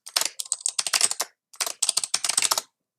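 Login being typed on a computer keyboard: two quick runs of crisp, close key clicks separated by a brief pause, with no talking.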